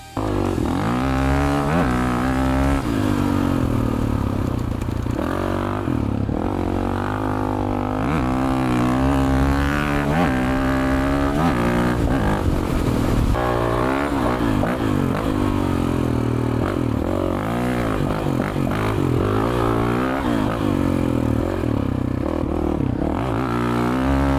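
Uncorked Honda CRF450X dirt bike with its muffler, ECU and airbox modified, held at wide open throttle with the clutch in: a loud, continuous, close engine roar with shifting pitch, steady throughout with no talk over it.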